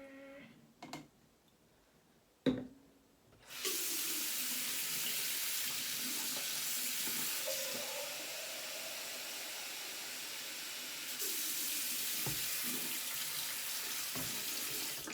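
Water gushes from a tap in a steady hiss after a few clunks, filling a makeup brush cleaner, running continuously with a slight change in flow near the end.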